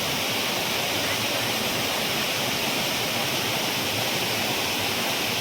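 Rushing water from the Irala waterfall in Chittoor roars as a dense, steady, unbroken wash, loud and close, with no other sounds.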